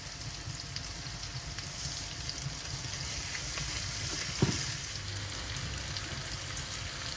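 Three chopped onions sizzle softly in sunflower oil in a pot with a tablespoon of salt for a Bangladeshi lamb dish, a steady low frying hiss with one small clink partway through.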